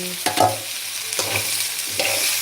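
Chopped bottle gourd frying in a pan, a steady sizzling hiss broken by three clattering stirs or scrapes of a utensil, close up and without talk.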